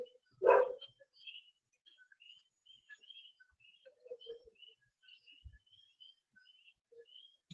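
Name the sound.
dog barking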